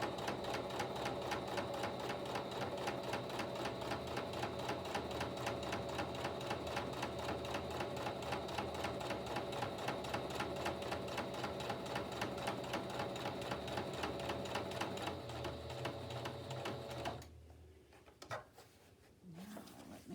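A sewing machine runs steadily at close range, straight stitching around a softcover journal, a fast even mechanical clatter that stops near the end, followed by faint handling noises.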